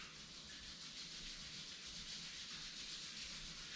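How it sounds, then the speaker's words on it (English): Palms rubbing briskly together during a yoga session, a soft continuous swishing friction heard up close and alone, faint and even throughout. "Rub your palms."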